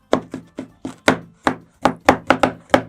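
A knife slices through a homemade sushi roll still wrapped in plastic film on a board. About a dozen crisp, close knocks land in a fairly steady rhythm, with quiet gaps between them.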